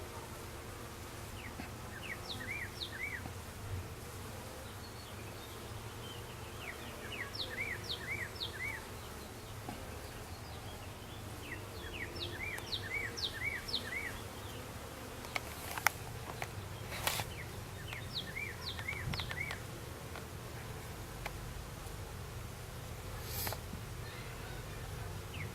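Honey bees, some heavily laden with pollen, buzzing in soft, intermittent bursts over a steady low outdoor hum, with occasional sharper ticks and knocks.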